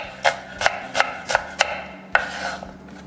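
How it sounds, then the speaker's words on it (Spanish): Knife cutting a shallot into thin slices on a board, six crisp, close chopping strokes at a steady rhythm with a short pause before the last one. "Cortamos la chalota en rebanadas finitas."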